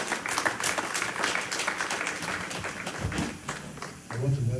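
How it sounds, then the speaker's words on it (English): A church congregation claps during a morning worship service, a dense, steady patter of many hands filling the room, with voices mixed in beneath the clapping. "Let's clap for Jesus."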